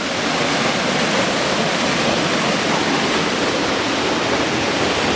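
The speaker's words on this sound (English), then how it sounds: "Here we are at the swimming hole." Water at a swimming hole in the woods of the White Mountains along Tripoli Road, a loud, steady rushing wash like a small waterfall or stream, continuous and close with no voices.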